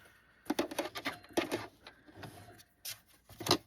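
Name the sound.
sewing machine stitching a bag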